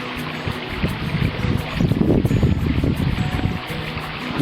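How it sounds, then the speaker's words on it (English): Water rushing through an outflow on a sunny October day, a continuous close, full splashing flow with slight surges, heard on its own without talk. "So yes, it's the water flow's back to normal, coming across"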